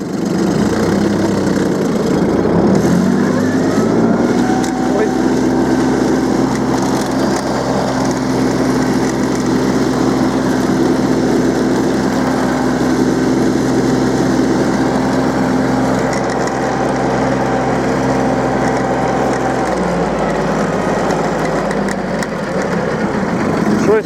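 A Yanmar KE-3 tractor's small engine runs loud and close, its drone rising as the machine pulls away in fourth gear and holding steady, with brief talk over it.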